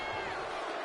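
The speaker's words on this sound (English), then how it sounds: "And Rocky is revving this crowd up." A virtual arena crowd in the WWE 2K25 wrestling video game roars and cheers in a dense, steady wash of noise, loud and continuous throughout the short moment.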